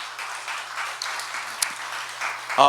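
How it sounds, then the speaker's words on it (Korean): A Sunday morning church congregation welcomes new members with soft, fairly distant applause that holds steady for a couple of seconds and then fades, with a brief clatter near the end. "우리 박수 한번 하실까요?"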